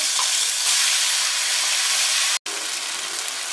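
Loud, continuous sizzling and hissing as prepared gravy with turmeric and red chilli powder hits hot oil in a pan, broken by a very brief gap before the frying carries on.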